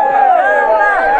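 Crowd of Botafogo supporters with a Fusca group at Morro do Fogo, shouting and cheering together as a loud, dense wall of voices that stays steady and close.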